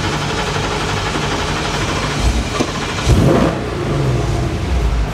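A Godzilla-swapped Ford F150 V8 runs rough with a bad ignition, a loud, close, uneven engine rumble that rises briefly in a rev midway before settling back to a lumpy idle, with no talking.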